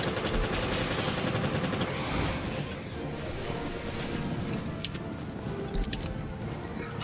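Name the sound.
machine gun fire in the video game Resident Evil: Revelations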